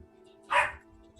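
Prince, a pet dog shut out in a hallway, lets out one loud, sharp bark-cry that rises and fades within half a second, surrounded by quiet.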